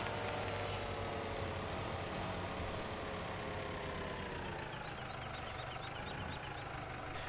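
A tractor engine left idling in a farming game set on a Northern Ireland estate, a faint, steady low chug with a mechanical hum running unchanged throughout.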